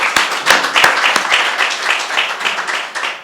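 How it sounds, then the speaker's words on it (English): Audience at a government event on prison rehabilitation giving a round of applause, loud crisp clapping with a few sharp individual claps standing out at the start, continuing steadily throughout. "Join me for a round of applause."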